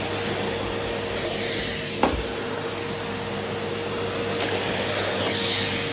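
A Henry HVX 200-11 Xtra bagged cylinder vacuum cleaner runs with a steady, even whooshing drone throughout, with a brief thump and a faint scrape as the nozzle moves, close and alone.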